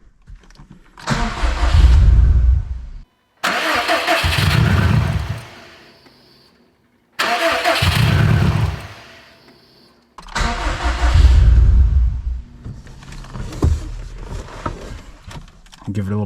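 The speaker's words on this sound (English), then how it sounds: "the first start at a brand new, untouched, 0 mile engine" A brand-new, zero-mile car engine on its first start cranks and fires several times in short bursts, each catching briefly before cutting out, then settles into a rough idle; loud and close.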